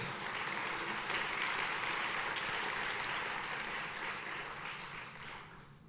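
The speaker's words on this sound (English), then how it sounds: "we're going to applaud her loud enough that she can hear" A college audience at John Jay College of Criminal Justice applauds in a steady, dense wash of clapping that holds for several seconds and then gradually fades.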